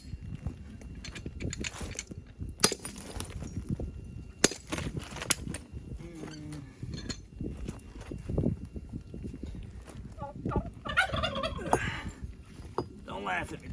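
Turkeys gobble in repeated bursts, their warbling calls rising over a background of clattering and thumping noises.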